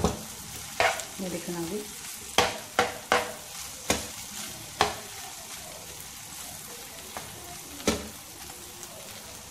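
Bread ka meetha roasts in a pan over high flame with crushed almonds, sizzling softly under a string of sharp scraping stirs. A voice speaks briefly at the start.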